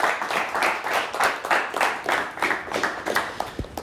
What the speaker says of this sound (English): Another round of applause for both teams here tonight.